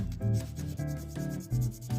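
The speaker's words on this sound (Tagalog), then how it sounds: "Lihain natin siya." Short, close scraping strokes of sandpaper rubbing a SIM tray, a few rhythmic passes in quick succession.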